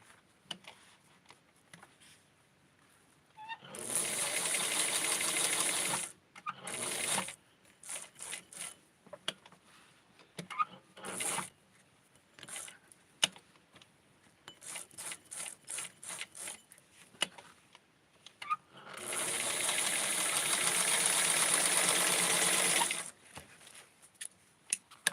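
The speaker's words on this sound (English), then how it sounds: "So I just cut it. And I'm just going to sew it in there." A sewing machine stitches tulle in two sustained runs of several seconds each, separated by scattered clicks and handling noises, fairly close and at moderate volume.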